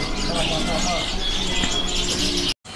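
Zebra doves cooing at a bird market, soft repeated coos and chirps over a busy, noisy background, with a brief drop to silence near the end.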